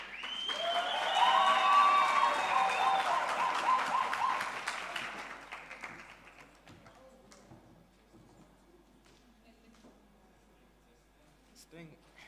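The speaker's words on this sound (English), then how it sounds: "can we please give a proper round of applause?" An audience at a Future of Work conference gives a round of applause with some whistling. The sound is full at first, then fades to scattered claps and faint room noise.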